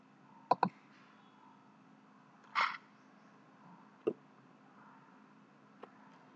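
A few sparse, quiet clicks from a computer keyboard, isolated taps spaced seconds apart over a low steady hum.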